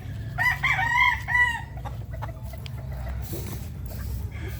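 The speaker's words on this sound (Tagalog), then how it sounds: "Tandang." A young rooster, about six months old, crows nearby in a drawn-out, multi-part call, followed by softer clucking and outdoor background noise.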